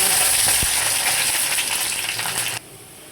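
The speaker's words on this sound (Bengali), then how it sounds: "আমি পেস্টটাকে ভালো করে বাদামি কালার করে নিয়েছি।" Spice paste for potato bhaji frying in a pan, making a loud, steady close sizzle with a brief knock partway through before it drops off sharply near the end.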